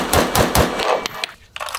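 Gunfire at an outdoor shooting range: a quick rapid string of loud shots, then a short pause and another brief burst, close and sharp.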